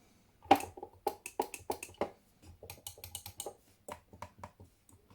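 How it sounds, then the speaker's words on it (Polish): Crisp, close clicks of a computer mouse button come in a quick irregular series, some sharper than others, from a mouse whose right button does not click properly. "ten mój prawy przycisk tutaj nie klika tak jak powinien klikać"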